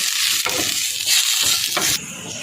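Curry leaves with ginger and garlic hit hot oil in a frying pan for a Kerala squid and quail egg masala, giving loud crackling sizzle bursts that pulse and flare over the short stretch.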